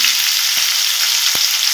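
Capsicum frying in a wok makes a brief, close, steady sizzle with a couple of soft stirring knocks and no voices.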